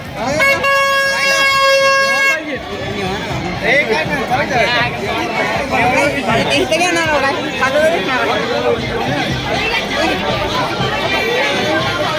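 Dense, lively babble of a large crowd at a village yatra fair, opening with a long blaring horn blast, then overlapping voices and chatter close by throughout.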